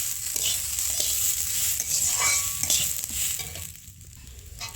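Badshah Bhog rice frying in a pan for payesh, stirred continuously with a spoon, giving a close, steady sizzle and scraping with no voices.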